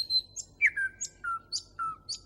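Nightingale singing at night, a series of clear, repeated chirps and whistled notes in a steady rhythm, fairly close and heard alone against a quiet background.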